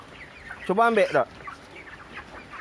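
A broiler chicken about 29 days old, sick with a respiratory rattle, gives a short loud squawk while held close for weighing, with someone talking quietly before and after it.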